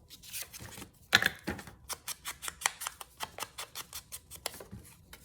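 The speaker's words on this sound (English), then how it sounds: "we're gonna take a risk and cut her up with scissors" Repeated sharp snips of scissors cutting a book page, a steady run of crisp cuts close to the listener with no talking.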